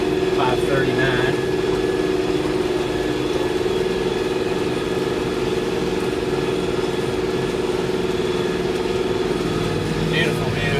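Steady engine drone of a tractor climbing a hill while cutting hay, the 540 PTO running and the motor holding a constant laboring hum throughout, with someone talking over it.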